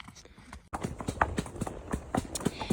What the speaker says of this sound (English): A nice canter there.